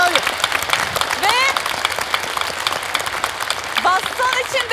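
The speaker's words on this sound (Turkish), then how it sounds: "O zaman daha sevgili bir alkış." A television studio audience applauds on a Turkish masked-celebrity show, sustained clapping from many hands while a presenter's voice cuts in and out over it.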